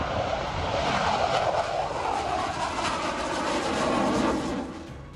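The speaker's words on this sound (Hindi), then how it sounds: "तेजस MK-1A की उड़ान" A Tejas MK1A fighter jet roars steadily overhead in flight, a loud broadband jet rush that holds for several seconds before fading slightly at the end, with no voices.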